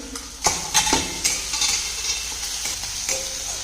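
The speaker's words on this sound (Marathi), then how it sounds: "जी शिमला मिरची आहे 1 बारीक कट करून घेतलेली आहे, ती चांगली भाजून घ्यायची आहे।" Finely chopped capsicum for pav bhaji sizzles and fries in a pan, with scraping stir strokes near 0.5, 0.9 and 1.3 seconds over a steady close hiss, no voices.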